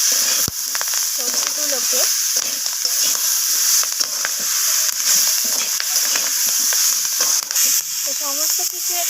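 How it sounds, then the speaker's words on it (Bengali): Spinach and cauliflower stems stir-fry in a pan, giving a loud, steady sizzle and hiss throughout with scraping stirs of a utensil against the metal. "তো আবারও আমি এইভাবে কষিয়ে নিচ্ছি সবজিগুলোকে।"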